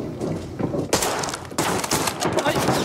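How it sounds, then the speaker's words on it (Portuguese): Gunfire in the shooter Arena Breakout Infinite, sharp loud bursts of shots hitting at about one and one and a half seconds, with rattling follow-up fire and a voice talking over the action. "foi esse cara atirando em mim"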